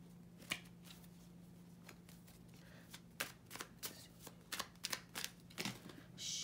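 Tarot cards are shuffled by hand in a quiet room, a series of short papery riffles and flicks at close range, coming in uneven bursts with pauses between them.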